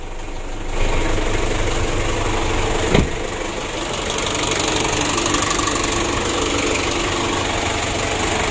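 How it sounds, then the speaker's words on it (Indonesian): A diesel engine with a freshly serviced starter motor idles steadily after starting, its rhythmic knocking rumble close and continuous, with one brief louder clunk partway through. "Nah ini untuk hidup mesinnya sudah mudah, sudah aman ya."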